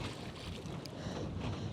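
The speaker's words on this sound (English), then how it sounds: "Oh, this wind." Wind gusts buffet the microphone on a small fishing boat out on open water, a steady broadband rush with a few brief brighter flurries, loud and continuous throughout with no talking.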